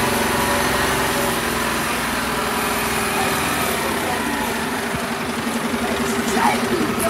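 A food waste collection truck's engine idles steadily at close range on a Bournemouth street, a continuous droning hum with a faint higher whine, holding level throughout.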